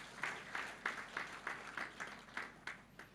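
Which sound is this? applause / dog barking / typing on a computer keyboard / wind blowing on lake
applause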